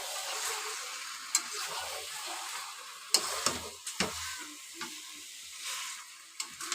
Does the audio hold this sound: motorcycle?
no